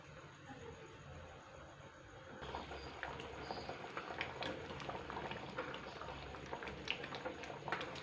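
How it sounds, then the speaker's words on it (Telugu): Toor dal with cucumber bubbles in a pot, a soft simmer that turns livelier into a continuous boil with dense popping bubbles, close and fairly quiet, with no voices. "ఒక పొంగు వచ్చే వరకు మరిగించాలండి పప్పుని"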